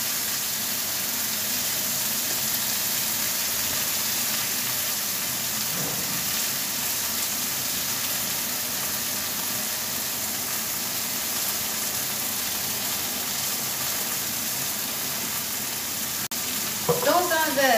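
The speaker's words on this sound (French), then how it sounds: "On va laisser rôtir un peu l'oignon et l'ail." Onion and garlic roasting in a pan give off a constant, even sizzle throughout, close and moderately loud, with a faint clink at the end.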